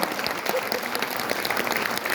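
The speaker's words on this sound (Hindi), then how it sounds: "मेरे ताऊजी के लिए जोरदार तालियां" A crowd at a motivational success-story talk gives a brief burst of thick, continuous applause, loud and steady throughout with no gaps, and no voice breaks through.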